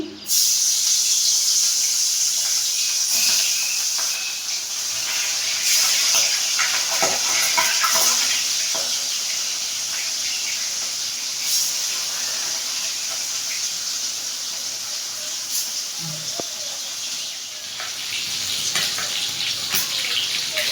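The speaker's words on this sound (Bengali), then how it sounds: "বন্ধুরা, মাছটা এখন আমি ভেজে নিচ্ছি" Hilsa fish pieces coated in salt and turmeric sizzle in hot oil in a wok, a continuous close crackling hiss with scattered sharper pops and spatters that runs steadily for about twenty seconds.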